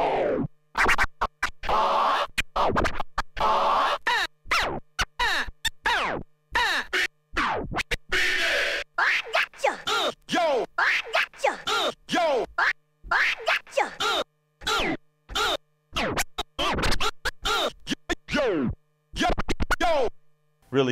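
Rapid turntable scratches chop a vocal 'ah' sample with a phaser-like sweep, rhythmic bursts and stabs sounding up close and loud, with no speech.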